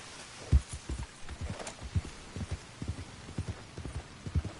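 Horse hooves clip-clop in a rapid, irregular rhythm as a horse gallops across ground in Red Dead Redemption 2, soft but distinct hoofbeats repeating steadily with no talking.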